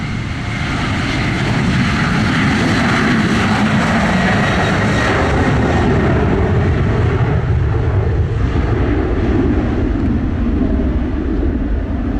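Spur Wings airplane engine running steadily on the runway before departure, a loud continuous propeller and engine drone that holds unbroken, close by and with no voices.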